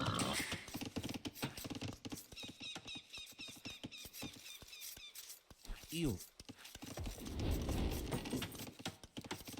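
A horse unit in Age of Empires II sounds off with game clip-clop and neighing effects, quick hoof taps and a short whinny mixed under a caster's continuous commentary.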